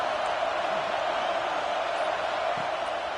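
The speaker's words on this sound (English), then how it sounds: "Decibels rising as the crowd gets behind this defense on third down" Stadium crowd in a football video game roaring steadily for the defense on third down, a dense continuous wash of cheering noise at constant loudness throughout.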